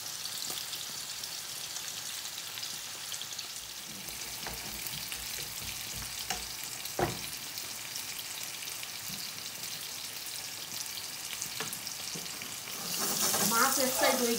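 Onions frying in oil for a radish and mrigal fish bortha give a steady, close sizzle that holds level throughout, then swells louder and brighter for the last couple of seconds. No voices.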